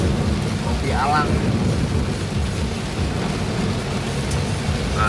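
Heavy rain beats on a car throughout a road journey in Indonesia. It forms a loud, dense roar, and short chirping sounds cut through it.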